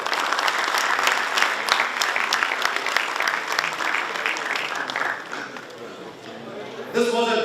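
A large university audience breaks into loud, sustained applause, dense clapping that holds steady for several seconds before thinning out, with a brief burst of voice or noise at the end.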